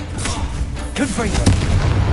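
Confringo blasting spells in Hogwarts Legacy go off as a rapid string of booming impacts and crackling bursts, loud and close, with a voice speaking under them.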